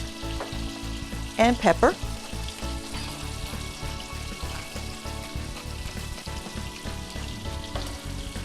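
Steaks for Steak Diane sear in a hot pan with a steady, loud sizzle throughout, while a voice speaks briefly near the start over the frying.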